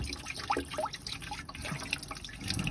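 Water drains from the radiator drain plug of a 2008 Chrysler Town and Country during a radiator flush. It makes a steady, close trickle with scattered drips and splashes and no talking.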